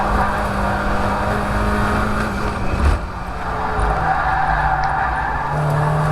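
A Mazda MX-5 race car on the Croft circuit pushes wide in understeer, its engine droning loud and steady up close with a brief dip midway and a rough scrubbing tire edge throughout.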